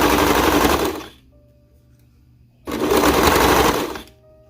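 A serger stitches around a small romper cuff in two loud, close, continuous mechanical bursts separated by a short quiet pause.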